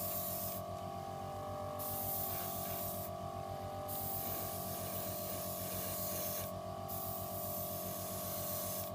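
Airbrush spraying light mist coats of green base colour paint onto the edges of a PG Zaku II model kit, a steady continuous hiss with brief pauses, close and alone.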